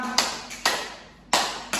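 Four sharp hand claps in an uneven pattern, two close together, a longer pause, then two more, each crisp and near with a quick decay in a quiet room.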